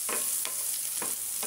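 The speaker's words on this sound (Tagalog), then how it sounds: "igisa lang po natin ang sibuyas at bawang," Onion and garlic sauté in a pan, a steady close sizzle with a few stirring scrapes repeating about every half second, no voices.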